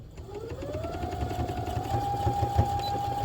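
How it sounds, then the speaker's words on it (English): A sewing machine stitches a small back-and-forth tack on a soft padded figure skate guard, its motor whirring up to a steady high hum with rapid needle clatter, close and alone. "So I'll do that all at the sewing machine."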